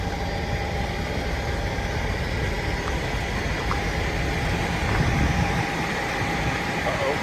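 The engine of a 1985 Mercedes 500SEC Euro coupe runs steadily after starting, a continuous low rumbling idle with broad noise and no clear pauses, heard close and fairly loud throughout.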